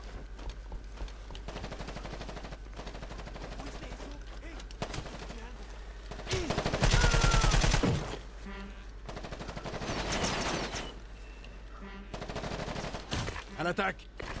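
Gunfire in Ghost Recon Advanced Warfighter comes in short bursts and single shots, with a heavy sustained machine-gun volley in the middle, mixed with brief game radio chatter.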